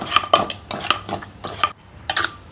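A utensil stirs Isan eggplant soup in a pot after scallions and cilantro go in, making close, rhythmic scraping and clinking strokes about twice a second with faint sizzling between them.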